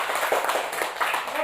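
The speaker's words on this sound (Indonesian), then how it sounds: "Tepuk tangan untuk kalian semua" Students in a classroom clap together in a brief, dense burst of applause, bright and close, filling the short moment with a rapid, even patter.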